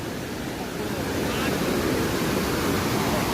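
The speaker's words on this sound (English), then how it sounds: "This is Gira Waterfalls." Rushing water at Gira Waterfalls in Saputara, Gujarat: a steady, loud, broad roar of falling water with no break, heard without talk.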